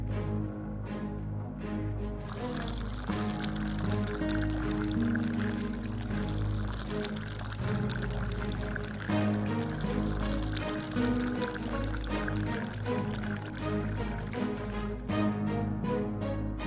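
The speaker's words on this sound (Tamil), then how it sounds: "அந்த கிளாஸ்ல கொஞ்சம் தண்ணி ஊத்தி கொடுக்க முடியுமா?" Water poured into a drinking glass in a home, a long steady pour heard up close and fairly quiet, alongside background music.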